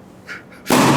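A balloon bursts with a sudden loud pop that opens into a bright, sustained burst lasting to the end, after a few faint sounds beforehand.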